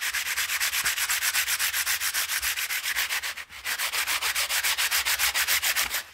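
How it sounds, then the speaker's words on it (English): Rhythmic light hand sanding on CNC-carved wood, a steady back-and-forth rasp of regular strokes, close and fairly loud, with a short pause midway. "Let's give this a quick sanding real quick. Let's see how a light sanding does here."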